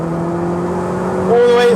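A Renault Clio RS engine holds a steady loud tone, then its pitch climbs sharply near the end as it revs out, heard close and alone.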